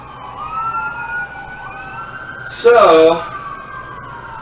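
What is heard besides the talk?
emergency vehicle siren in a downtown area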